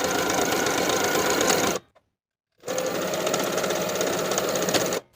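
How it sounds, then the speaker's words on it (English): A sewing machine runs fast on knit fabric with a narrow zigzag stitch, a close, steady mechanical whir in two bursts separated by a short silent pause, with no talking. "Sew with a 1/2 inch seam allowance and a narrow zigzag stitch and press the seams open."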